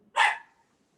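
A single sharp dog bark rings out once in an otherwise quiet room during a council meeting, a short loud burst that fades quickly.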